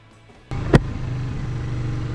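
A 2019 Kawasaki Vulcan S motorcycle engine catches after a short quiet moment, with a sharp thump just after start-up, then settles into a steady, close idle rumble.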